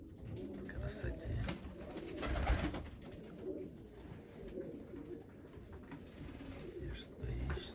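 Feather-footed, old-breed pigeons perched in pairs coo in soft, repeated low throaty calls, close by and continuous, with quieter rustling and background murmur around them.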